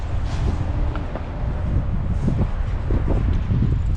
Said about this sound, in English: It's windy down here.